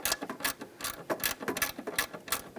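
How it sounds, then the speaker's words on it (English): Rapid ratcheting gear wrench snugging an exhaust manifold nut on a 4.7L V8 Jeep Grand Cherokee, a quick series of close, bright clicking bursts in short repeated strokes with brief pauses between. "go ahead and use your gear wrench"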